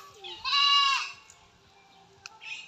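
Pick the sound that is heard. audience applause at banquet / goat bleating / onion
goat bleating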